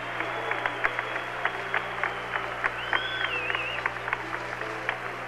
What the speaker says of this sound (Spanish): Ahí está aplaudiéndose el equipo soviético.